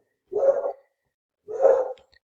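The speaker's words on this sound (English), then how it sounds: "Sorry for the dog barking in the background." A dog barks twice indoors in the background, two muffled, moderately loud woofs about a second apart with silence around them.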